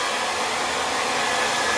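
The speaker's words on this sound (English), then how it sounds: "I am going to show you how to dry this part of your hair" A hair dryer blows steadily and loudly at close range while drying hair, giving an unbroken airy roar with no voices.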